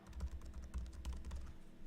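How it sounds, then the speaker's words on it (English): Quick bursts of typing on a computer keyboard, soft and fairly close, with short pauses between clusters of keystrokes. "You just type Windows Store."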